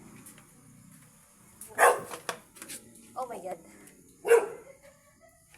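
A couple of dog barks, not very close, sound among people talking in a quiet room.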